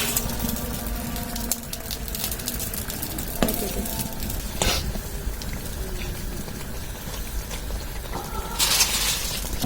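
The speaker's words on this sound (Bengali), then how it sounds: "এটা ভালো করে এপিট ওপিট করে ভালো করে লাল করে ভেজে নিতে হবে।" Eggplant fritters (beguni) fry in hot oil with a steady, close crackling sizzle and a few sharp pops and spatters, with no talking.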